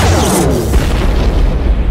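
A loud, deep boom of weapon fire and explosion in a sci-fi audio drama trailer, one heavy rumbling blast with a crashing burst at the start that fills the whole short clip, without any talk.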